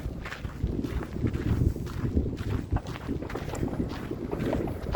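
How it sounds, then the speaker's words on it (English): Gusty wind buffets the microphone with low rumbling and uneven bursts, steady throughout, with no talking. "Windy."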